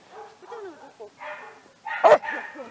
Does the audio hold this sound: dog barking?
yes